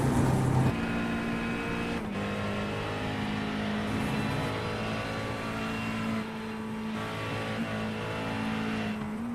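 Race car engine in a sim racing endurance event at La Loire, a steady high-pitched drone through the Porsche and karting corners, with gear shifts and revs rising and dropping continuously, loud and close.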